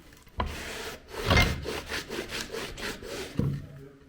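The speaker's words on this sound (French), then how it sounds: "Là, vous avez un nettoyage d'armes en direct." An old weapon found in an abandoned house has rust scrubbed off it by hand, giving rhythmic, close abrasive rubbing strokes that swell and fade, with a few sharp knocks at the start and end.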